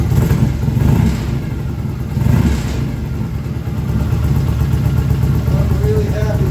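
A rebuilt BSA motorcycle engine with freshly adjusted carburetors runs close by with a throaty, uneven rumble, surging with a couple of quick throttle blips before holding a steady, rougher idle.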